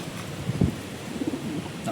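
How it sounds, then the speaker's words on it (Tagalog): A racing pigeon cooing after returning home to its loft from a derby race, soft low coos near the middle and end, faint against a steady background hiss. "Pero maswerte tayo at inuwian tayo ng isang ibon."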